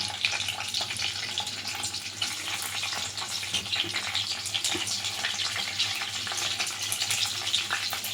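Green chillies and onions fry in hot oil in a pan, giving a steady close sizzle with crackling bursts throughout, no voices over it.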